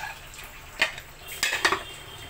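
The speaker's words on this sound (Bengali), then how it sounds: "তো এবার প্রেসারের ঢাকনাটা আমি" Metal clinks and a couple of quick clatters as a pressure cooker lid is fitted and locked shut over khichuri, brief and close with quiet pauses between.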